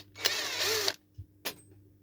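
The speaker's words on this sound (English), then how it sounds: "let's get rid of this screw out from the battery drill" A cordless battery drill backs a screw out of electrical pump connector parts in two short bursts, a longer whirring run followed by a brief second pulse, close and fairly loud with no talk.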